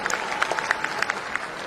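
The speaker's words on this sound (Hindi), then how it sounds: "आप एक लाख ताली से स्वागत करिए" Audience applause fills a hall at a political workshop in Patna, a short burst of sharp, dense clapping with no voices.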